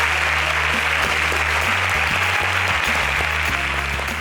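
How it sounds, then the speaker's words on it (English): Steady, dense applause from a studio audience at an agricultural science quiz contest, loud and continuous throughout with a low musical drone beneath it. "A round of applause for them, please."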